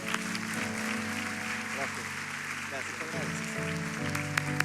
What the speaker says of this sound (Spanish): Aplauso al Señor.